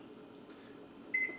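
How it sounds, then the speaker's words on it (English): A kitchen oven timer is set with a few faint button presses over a low appliance hum, then a single clear electronic beep sounds near the end. "Now you just want to put your timer on"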